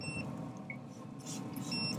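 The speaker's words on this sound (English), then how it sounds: "See, there's the alarm" An INKBIRD IBT-26S wireless grill thermometer alarm beeps beside an opened smoker, giving short high electronic tones at the start and again near the end, fairly quiet over steady background noise.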